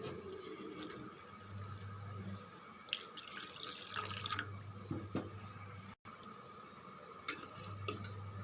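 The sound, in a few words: water poured and mixed into flour batter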